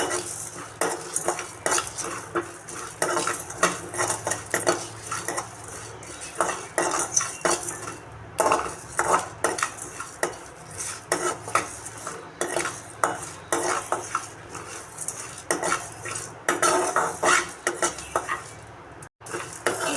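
Whole spices such as cumin, fennel, pepper, bay leaf, cloves, cinnamon and stone flower dry-roasting in a kadai over low flame, with steady metal-on-metal scraping and clinking of a ladle throughout and a faint rustling sizzle, no talking.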